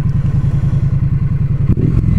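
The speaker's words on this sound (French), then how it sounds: "La Street Twin offre une sonorité jouissive et bruyante à souhait." Triumph Street Twin 900 twin-cylinder motorcycle with brushed steel silencers, its exhaust loud and close, firing in a rapid regular thumping pulse before a short rev at the end.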